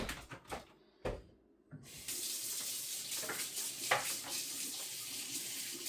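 Water runs steadily from a tap into a sink while something is rinsed off under it, a continuous close splashing rush after a few knocks and clatters at the start.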